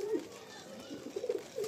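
A Madrasi pigeon at a pigeon show in Baruipur, Betberia, gives soft, faint coos in short bursts against a quiet background.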